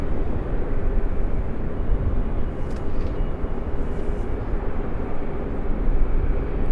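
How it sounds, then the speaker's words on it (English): Southwest airliner taxiing out at Raleigh Durham International, a steady broad engine rumble heard from a distance, continuous and unbroken with no talk. "We got a Southwest taxiing out."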